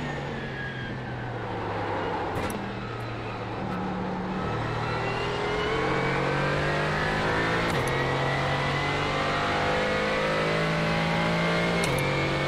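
A GT4 race car engine at Mid-Ohio in iRacing revs loud and close. It climbs through the gears with sharp shift breaks and rising pitch, steady and continuous with no talking.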